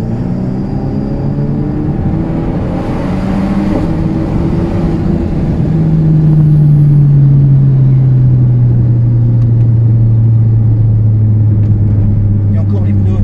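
An Alpine A110 braking hard, heard close from inside the car: a loud, droning engine note slides steadily downward as the car slows, with a deep rumble underneath throughout.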